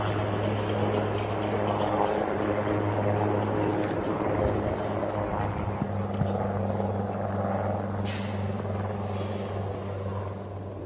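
A HAL Light Combat Helicopter flies at the Aero India 2011 air show, its steady rotor and turbine drone holding loud and continuous throughout, with a brief shift in pitch midway and no talking.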